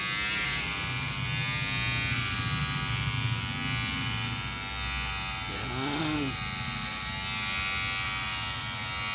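Electric hair clippers shaving a head bald at home, a steady close buzzing hum running throughout, with a brief faint sound rising over the motor partway through.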